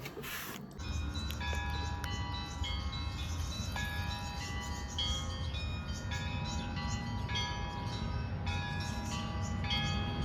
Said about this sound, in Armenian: եկեղեցու զանգերը լսում եք